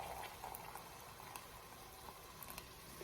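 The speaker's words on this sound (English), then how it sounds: "I'm just going to add 300 ml of boiling water to that stock cube" Boiling water, 300 ml, poured onto a stock cube, a faint continuous bubbling and trickling fizz with small scattered pops, quiet and steady throughout.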